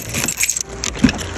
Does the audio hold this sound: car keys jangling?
yes